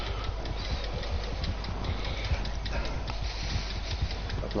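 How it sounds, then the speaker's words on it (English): A horse gallops in Red Dead Redemption 2 during a race, its hooves drumming in a dense, rapid patter beneath a steady rushing bed of game noise. "My horse is now finally picking up speed as we're going into the turn."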